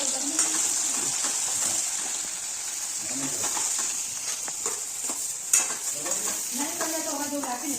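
Onion fries in a pan for pasta with a constant bright hiss and a few scraping stirs, close up. A voice murmurs faintly now and then.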